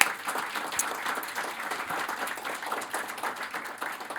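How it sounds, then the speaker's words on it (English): Dense, even applause from an audience at a startup demo day, continuous clapping of moderate loudness with no voices over it. "Really huge round of applause for them"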